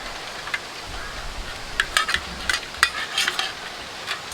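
Eggs are whisked in a bowl for an omelette with goat testicles, giving a series of quick, light clinking taps that come in short irregular bursts over quiet background noise.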